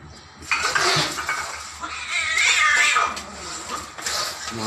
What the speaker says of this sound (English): My cat attack to the other cat.